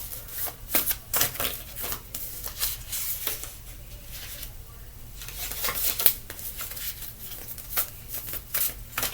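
A deck of tarot cards is shuffled over and over, giving close, crisp riffling and sliding bursts in an uneven rhythm, with short pauses and a low steady hum beneath.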